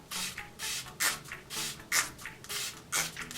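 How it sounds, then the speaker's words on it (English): Repeated short hissing bursts of a fine mist spray of makeup primer water onto a face, about eight quick pumps in a loose rhythm, close and fairly loud. "I'm going to be using my Smashbox primer water and just spraying this all over my face"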